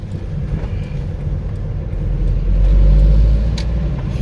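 A Daihatsu Hijet van drives along the road, its cabin filled with a steady low engine rumble and road noise that swells louder midway, with faint clicks and no talk.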